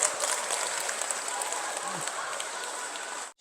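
A Catholic parish congregation applauds the priest during a mission talk, giving a steady round of moderate clapping that cuts off abruptly at the end.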